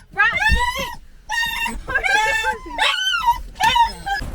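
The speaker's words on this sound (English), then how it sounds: "The dogs are very excited." Excited dogs just let out of a car whimper and yip in a rapid run of high, wavering whines, loud and close, in several bursts with brief pauses.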